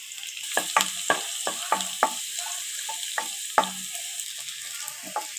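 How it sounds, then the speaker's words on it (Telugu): Finely chopped garlic fries in hot oil in a pan for gobi manchurian, a soft background sizzle punctuated by a dozen or so sharp spoon scrapes and clinks against the metal, spaced irregularly. "ఆయిల్ వేడయింది. సన్నగా తరిగిన వెల్లుల్లి వేస్తున్నాను"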